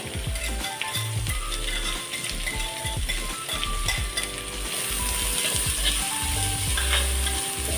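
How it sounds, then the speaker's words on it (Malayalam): Thinly grated carrot sautéing in a pan for a sweet dish, with continuous crackling sizzle and rhythmic scraping and knocking of a stirring spoon throughout. "നന്നായി ഒന്ന് വഴറ്റിയെടുക്കാം"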